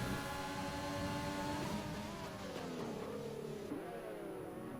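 An Alfa Romeo Formula 1 car in a racing video game on the Chinese circuit, its engine revving and shifting pitch as it races, a steady, fairly faint mechanical drone with no voices.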